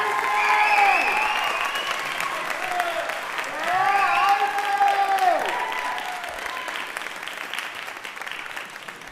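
An audience at a middle school spring concert gives sustained, loud applause, a dense roar of clapping that swells and fades, with voices and cheering cries over it.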